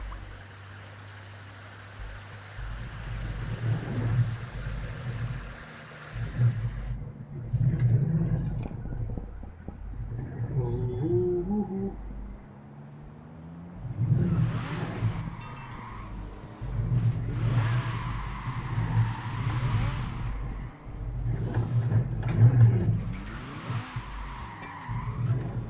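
Car with a triple exhaust in Forza Horizon 4, played on a steering wheel and shifter, revving hard with repeated loud acceleration surges, gear changes and squealing, skidding tires throughout.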